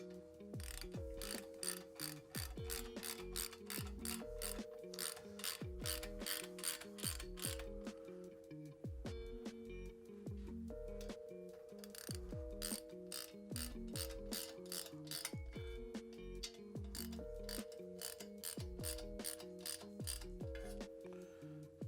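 A hand ratchet clicks steadily, snugging down four nuts on a Lowbrow Customs 2-into-1 SuperMeg exhaust by Kerker on a Harley-Davidson motorcycle, a close, busy run of rapid pawl clicks in repeated bursts with no talking.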